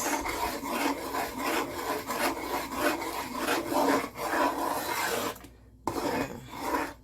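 A spoon scrapes steadily around a pot of thickening peanut and oats porridge made the Jamaican way, a close, rhythmic rasping that stops briefly and then resumes, with no talking.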